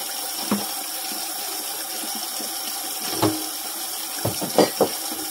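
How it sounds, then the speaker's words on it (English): Hot tap water runs into a sink while dishes are washed by hand, a steady hiss of flowing water with a few brief clinks and splashes scattered through it. "Make sure your water's nice and hot when you're washing dishes by hand."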